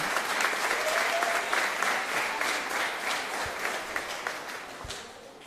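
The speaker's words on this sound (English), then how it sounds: "So how about a round of applause to Mr. Villagomez and KWES Beanie." Steady applause from a crowd at a high school college signing event fills the whole stretch, dense and continuous clapping without pause, tapering slightly toward the end.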